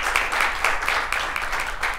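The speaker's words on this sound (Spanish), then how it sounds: "Démosle un fuerte aplauso al Señor." A church congregation applauds together, a steady dense wash of clapping hands that stays loud and even for its whole length.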